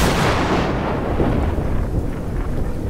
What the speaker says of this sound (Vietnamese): Đêm đó, trời bỗng nổi mưa rất to, sấm chớp ì đùng